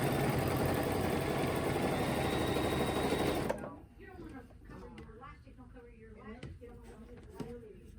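A sewing machine stitches a quilt block with ruler work, running as a loud, steady whir for about three and a half seconds before stopping, and then a voice talks over quieter room sound.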